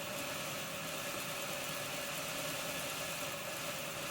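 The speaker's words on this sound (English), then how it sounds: "You can hear that engine cutting in and out." A model Deltic locomotive's motor whirs continuously in a steady buzzing hum, close and fairly quiet, with slight fluctuations as the faulty motor cuts in and out.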